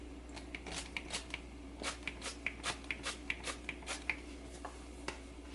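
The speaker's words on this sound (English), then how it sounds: "I'm going to spritz the scallops with a little oil." An oil sprayer spritzes scallops in an air fryer basket in a quick series of a dozen or so short, soft hissing puffs, close and quiet.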